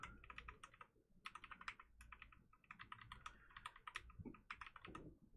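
Computer keyboard keys, arrow keys, are pressed in quick irregular clusters of crisp, close clicks, with short pauses between bursts and no speech.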